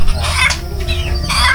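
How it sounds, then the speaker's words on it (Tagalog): A chicken clucks and squawks loudly in short bursts during a ritual slaughter before a hike on Mt Kitanglad, with no talk. "So ginigilitan na nila yung manok."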